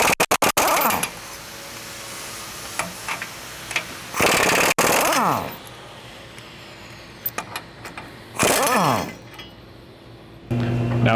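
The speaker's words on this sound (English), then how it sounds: "Now we can grab our 27mm socket and take off our nuts for the U-bolts" Impact wrench bursts break loose and spin off U-bolt nuts with a 27mm socket on a 2020+ GM 2500 during a lift kit install, several loud ratcheting bursts separated by pauses and a few metallic clinks.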